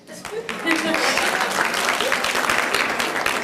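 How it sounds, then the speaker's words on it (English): A roomful of people at a Women's History Month gathering breaks into sustained, dense applause that swells quickly and holds steady, a close, loud wash of clapping with a voice faintly mixed in. "I appreciate the clap"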